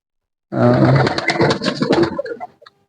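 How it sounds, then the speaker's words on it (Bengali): Pet pigeons in a loft give a loud, close burst of throaty cooing and rumbling that lasts about two seconds after a moment of silence, then fades into a few faint chirps. "এখানে দেখতে পাচ্ছেন এই কবুতর গুলা একটু দৌড়াদৌড়ি করতেছে"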